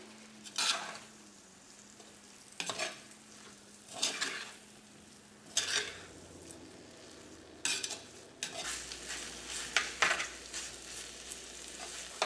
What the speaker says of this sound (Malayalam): ഇതെല്ലാം കൂടിയിട്ട് നന്നായിട്ടൊന്ന് മിക്സ് ചെയ്യാം